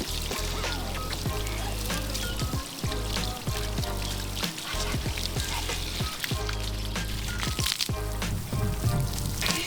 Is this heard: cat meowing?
no